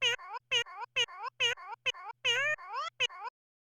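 A cat meows repeatedly, about eight short, close calls in a steady rhythm, each with a rising-falling tone.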